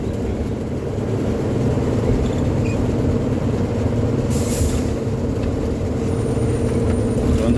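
Steady road traffic rumbles across a long bridge over the Ganges where it meets the sea, a continuous low drone of vehicles travelling one behind another, with no talk.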